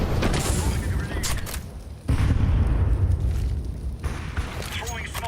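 A grenade blast in Counter-Strike during a Team Spirit versus Natus Vincere semifinal match, heard as loud, dense bursts of explosive rumble and gunfire-like cracks that carry through most of the stretch, with voices talking over them.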